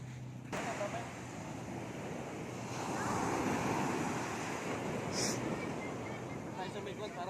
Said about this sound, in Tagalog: It's an ocean. It's an ocean.